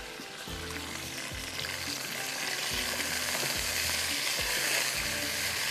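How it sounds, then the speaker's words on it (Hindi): Butter chicken wings fry in a loud, steady sizzle of masala in the pan, with a spoon scraping and stirring in repeated strokes about once a second; no one talks. "इसको ये एक तरह से फ्राई करना है इस मसाले में"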